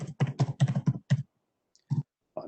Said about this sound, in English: I'm getting the sound of a herd of horses moving across somebody's keyboard